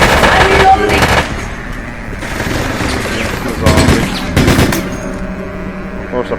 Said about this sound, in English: it's burst fire